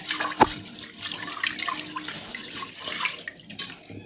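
Lentils are rinsed with water in a bowl before going into a pressure cooker, with soft sloshing and splashing, a sharp clink near the start, and fairly quiet throughout.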